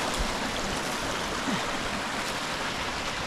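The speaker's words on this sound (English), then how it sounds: "Nothing more peaceful than the sound of a babbling brook." An icy mountain stream babbling through a pasture, a steady, full rush of flowing water that fills the whole stretch evenly and stays unbroken throughout.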